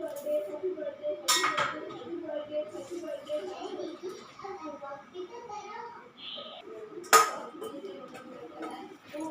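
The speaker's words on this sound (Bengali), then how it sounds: "আমি এরকম একটা স্টিলের প্লেট বসিয়ে দিলাম" A thin steel plate is set onto a hot tawa that has a hole in it, giving two sharp metallic clanks several seconds apart amid softer clinks, with a person talking throughout.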